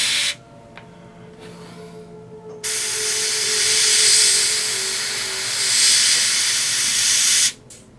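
An airbrush sprays paint onto a model aircraft, a steady close hiss running for several seconds after a few short bursts, then cutting off abruptly.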